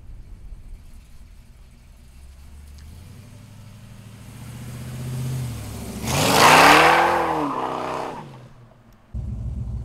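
A 1941 Willys car with a 502 engine idles low, then revs up hard to a loud roaring peak and falls away, heard close with no talking.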